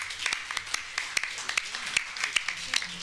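At a municipal council meeting, a small group claps in sparse, uneven bursts, fairly faint with distinct individual hand strikes.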